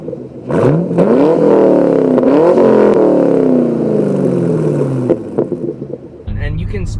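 A 2010-2015 Chevrolet Camaro SS V8 exhaust with no muffler revs loudly, its note climbing and falling a few times before settling into a rumbling idle.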